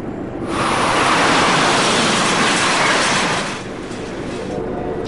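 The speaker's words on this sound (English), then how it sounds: "you just saw a video of an Amtrak Acela train passing through Warwick" An Amtrak Acela high-speed train passing through Warwick: a loud, close roaring rush that swells quickly, holds for a few seconds, then fades to a lower rumble with faint wheel clatter.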